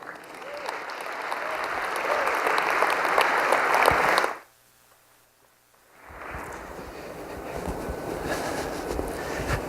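Applause from a press conference audience for a speaker at a Land Rover Range Rover Evoque launch, broad and steady, breaking off abruptly to near silence before a second round swells back in.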